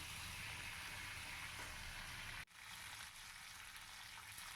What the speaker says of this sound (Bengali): এরপরে আমি সমস্ত শিমগুলো তেলের মধ্যে দিয়ে দিলাম